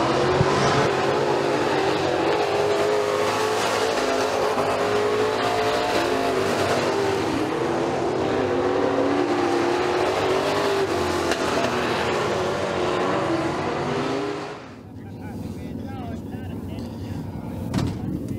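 Street stock race cars roar down the back straightaway at McKean County Raceway, a loud, continuous engine drone that fades sharply near the end, with an announcer talking over it.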